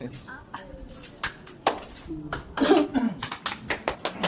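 Someone coughs a few times nearby, short rough bursts mixed in with talking and some shuffling.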